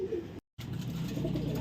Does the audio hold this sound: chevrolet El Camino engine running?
no